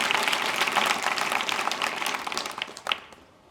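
An audience in a college hall claps loudly during a motivational speech, a thick burst of applause that tapers off near the end.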